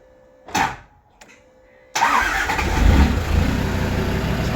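Land Rover Defender 130 TD5 ignition: a couple of brief clicks and a short whir, then the diesel engine catches and settles into a steady, fairly loud idle rumble close by.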